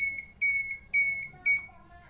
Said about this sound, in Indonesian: Kemudian alarm juga akan bunyi dan kita bisa tekan reset di sini.